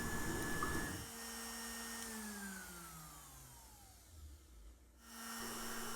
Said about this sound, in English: Now the CNC is V-carving the 4 Ho'oponopono phrases onto the top